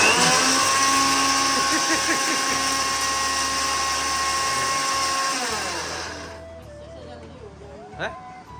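A kitchen grinder finely milling buknu spice mix, a loud steady whine that winds down and stops, with people talking over it.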